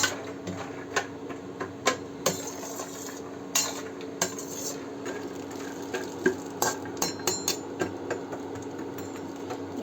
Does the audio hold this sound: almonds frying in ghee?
yes